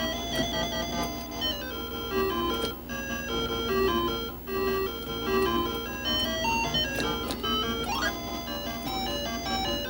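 Rally-X arcade game from the Namco Classic Collection plays its steady electronic music: bright, continuous synth tones with short repeating melodic blips and a rising sweep near the end, loud and unbroken with no talking.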